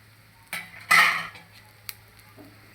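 Cumin seeds stirred with a utensil in a pan over low heat, giving a few scattered metallic scrapes and clinks, one louder sweep near the start, with quiet gaps between.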